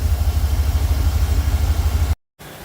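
A truck engine that won't start properly idles steadily with a low, even rumble and a regular pulse, then cuts out abruptly into brief silence before a faint sound resumes.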